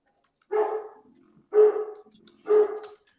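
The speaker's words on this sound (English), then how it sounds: "Damn, somebody got a dog barking." A dog barks three times at an even pace, each bark a single full woof about a second apart, moderately close and alone without talk.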